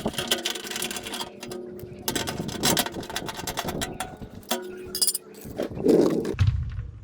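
Metal clinks and mechanical clatter come from removing the two bolts on the skid plate beneath a 2016 Toyota 4Runner, with irregular tool clicks and rattles close by, and a brief low thump near the end.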